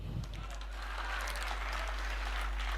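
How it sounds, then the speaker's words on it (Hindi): Audience applause at a Hindi kavi sammelan poetry recital, a steady wash of clapping from a crowd that holds evenly for a few seconds with no speech over it. "आप यहां अपनी तालियां नहीं रोक पाएंगे"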